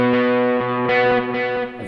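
A distorted electric guitar plays short notes, including a high G, while rhythmic delay repeats from an HX Effects unit echo each one, the repeats locking into the beat, loud and close.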